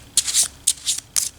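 Textured card sleeves are shuffled up close in three quick bursts of crisp, papery riffling, with short quiet gaps between them.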